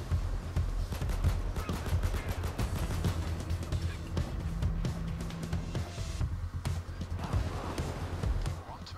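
Rapid gunfire from a Payday 2 heist, sharp repeated shots in busy bursts over a steady low game rumble, with a voice talking over the action.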